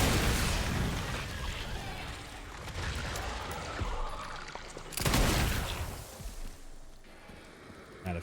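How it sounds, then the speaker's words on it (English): Rapid bursts of gunfire in Resident Evil 9 ring out in a dense, steady volley for about five seconds, then a second loud burst follows and fades into scattered shots. "I'm wasting a lot of time shooting."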